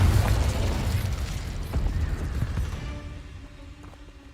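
A Confringo explosive fire spell going off in the Hogwarts Legacy video game: a loud, rumbling burst with crackling debris that rolls on and fades over a few seconds.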